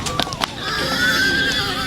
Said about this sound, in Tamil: 2 குதிரை வந்து இதுலேருந்து இறக்கிட்டாங்க. இன்னும் 2 குதிரை உள்ளே இருக்குது இந்த வண்டியில்.